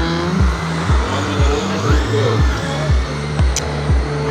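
RC cars race around an indoor carpet oval track, their electric motors whining loudly in rising and falling sweeps as each car passes nearby in quick succession, with tires squealing through the turns.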